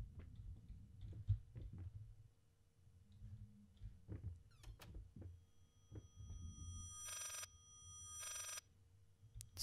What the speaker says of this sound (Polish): Cóż to? Telefon?